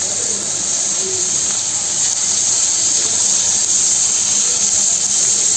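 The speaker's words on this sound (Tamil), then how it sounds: "சோம்பு, இடித்து வச்ச பூண்டு, இடித்து வச்ச வெங்காயம் எல்லாம் போட்டு நான் நல்லா முதல்ல வதக்கிக்கிறேன்" Fennel, crushed garlic and crushed onion sizzle in hot sesame oil for a spicy crab curry, a steady close hiss with no pauses.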